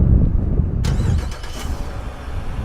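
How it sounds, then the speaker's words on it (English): A 2017 Dodge Durango GT with a 5.7L HEMI V8 is started by remote start: a brief crank and catch, then a loud, steady idle rumble close by, with no talk. "To use the remote start feature, just hit the lock button once and double tap remote start."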